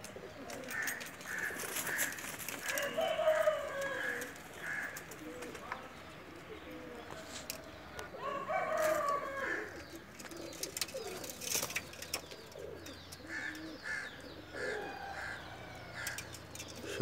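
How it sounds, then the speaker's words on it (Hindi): Breeder pigeons, including Ferozpuri, golden, Rampuri and Teddy birds, coo softly in repeated throaty bursts, quiet and fairly close, with brief pauses between calls. "ये फिरोज़पुरी कबूतर है जी।"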